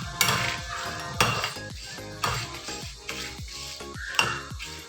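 Fenugreek seeds dry roasting in a pan for a kumquat pickle, with about five sharp metallic scrapes and knocks of a spoon against the pan at roughly one-second intervals, each ringing briefly over a soft background rattle.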